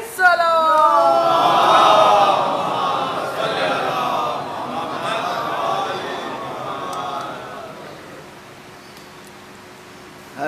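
A large crowd at a Muharram religious gathering in Karachi chants slogans in unison, loud and reverberant at first, then fading into a quieter murmur.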